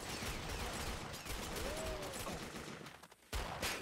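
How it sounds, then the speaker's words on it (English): Dense video-game gunfire from Perfect Dark Zero in Eradication mode crackles as rapid, overlapping bursts at low loudness, a continuous noisy barrage with no talking. "And the gunfire has started."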